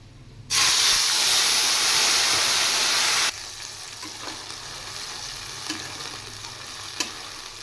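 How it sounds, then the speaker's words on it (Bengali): Whole dried red chillies and bay leaves drop into hot oil, setting off a sudden loud sizzle that holds for about three seconds. It then settles into a quieter frying crackle with a few soft clicks. "এবার আমি তেলে দিয়ে দিচ্ছি গোটা শুকনো লঙ্কা আর তেজপাতা।"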